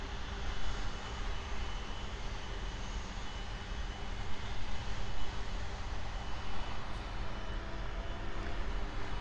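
Steady broadband roar of a cargo airplane at Miami Airport, continuous and fairly loud through the whole stretch, with no voices.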